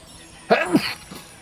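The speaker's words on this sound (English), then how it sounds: "I'm about to sneeze again." A single short sneeze bursts out sharply, close and fairly loud, followed by a brief quiet breathy sound.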